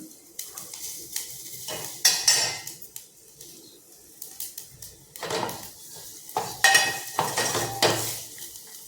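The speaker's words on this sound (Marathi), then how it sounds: "हे सर्व चांगलं असं परतून घ्यायचं आहे" Stirring in a pan as spices and turmeric are sautéed for Maharashtrian buttermilk kadhi: intermittent bursts of utensil clatter and scraping against the pan, close and moderately loud, with no talking.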